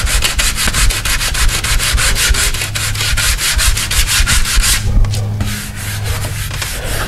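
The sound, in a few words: sanding a metal door repair with 320 or 400 grit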